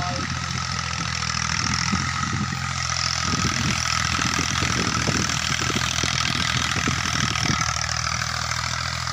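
A Massey Ferguson 240 tractor engine idles steadily at close range, its low knocking diesel throb running throughout while people talk over it.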